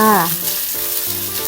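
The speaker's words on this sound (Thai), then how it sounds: "เจียวหอมแดงไว้ค่ะ เจียวไปเรื่อยๆ จนกว่าหอมแดงจะกรอบค่ะ" Shallots frying in hot oil until crisp, a steady close sizzle with a brief sliding tonal sound at the start and soft intermittent stirring.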